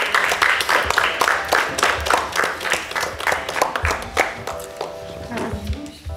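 A small group claps in a brief round of applause, uneven and close, with voices murmuring underneath as it tapers off.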